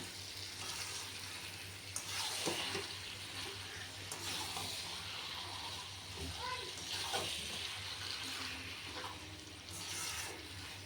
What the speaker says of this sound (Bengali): মাংসটা দিয়ে দিয়েছি কষিয়ে নেওয়া ভালো করে